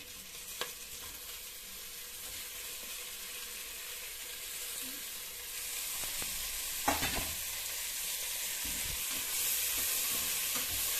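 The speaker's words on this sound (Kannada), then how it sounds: "ಟೊಮೊಟೊ ಹಾಕ್ತಾ ಇದ್ದೀನಿ ಫ್ರೆಂಡ್ಸ್." Tomatoes fry in a pan for hotel-style chicken biryani, giving a steady close sizzle with occasional sharp spoon-stirring scrapes and knocks against the pan.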